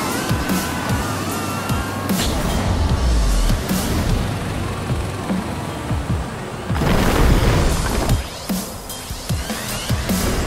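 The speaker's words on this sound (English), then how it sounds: "Multiple explosions detected." Multiple explosions go off in the video game Screamride: booming blasts and crashing debris over a constant dense roar, with a louder burst partway through and no speech.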